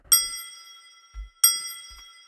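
Two bright synthesized bell plucks ring out about a second apart, each with a sharp attack and shimmering decay, with a soft low thump between them.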